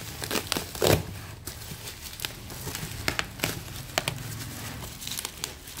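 Packaging of a 2020 MacBook Air M1 is handled during unboxing, giving close, irregular crinkling and rustling of plastic and paper with a few sharper tearing bursts, and no talk.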